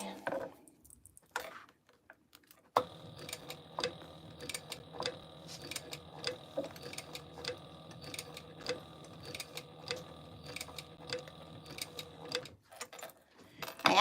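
Sewing machine stitching an eighth-inch seam allowance around a fabric piece: a steady rapid mechanical whir with ticking clicks runs for about ten seconds, bracketed by brief quiet handling sounds.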